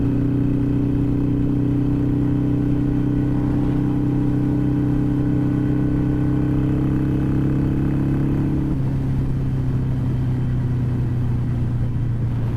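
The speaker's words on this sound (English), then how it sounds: "You can really start to hear that exhaust whine as we're getting up to speed here." A Harley-Davidson Iron 883 motorcycle engine drones steadily and its exhaust whines higher as it accelerates, the pitch holding then dropping briefly as it shifts, loud and close throughout.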